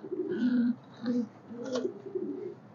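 A black magpie pouter pigeon coos close by in a few low, throaty, rolling phrases with short pauses between them.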